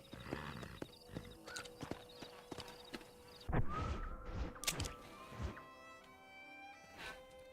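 Horse hooves clip-clop in Red Dead Redemption, a close, irregular run of crisp hoofbeats joined by thuds and a brief whinny-like sound over quiet outdoor game ambience, with no talking.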